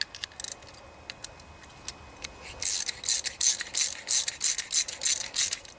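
Threading a starter clutch onto a Snapper riding lawnmower brings a few scattered metallic ticks, then a steady run of close ratcheting clicks in rhythmic bursts.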